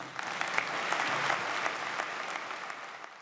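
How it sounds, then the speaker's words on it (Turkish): Applause from an assembly of parliamentarians and ministers after a party leader takes the oath of office, a brief steady burst of clapping heard at a distance. "Bahçeli'yi Davutoğlu ve bakanların da alkışladığı görüldü."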